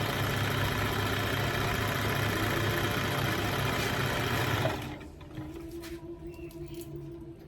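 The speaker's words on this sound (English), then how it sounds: "And then we're going to sew that." A sewing machine stitches quilt fabric made from scraps and jelly roll strips. It runs at a steady, fairly close whirring hum for about five seconds, then stops, leaving only faint, quieter handling sounds.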